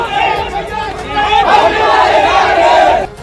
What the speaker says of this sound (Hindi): उन्होंने उनके समर्थन में नारे भी लगाए